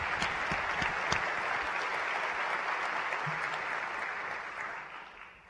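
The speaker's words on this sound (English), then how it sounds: "Give yourselves a round of applause" A large audience at the 2015 Cal Poly Fall Conference breaks into a round of applause, dense clapping with a few close, sharp claps that holds steady and then tapers off at the end.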